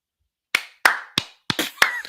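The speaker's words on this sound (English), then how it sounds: "We got to clap for every single one you say." Five or six separate, sharp hand claps in a live podcast studio, spaced roughly a third of a second apart after a moment of silence, close and crisp with no talk.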